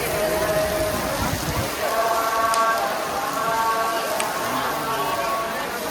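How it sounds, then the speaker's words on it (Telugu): Early-morning rain in Tirupati falls as a loud, continuous hiss, with faint sheep-like bleats or voices rising above the steady downpour. "వర్షం పడుతుంది తిరుపతిలో."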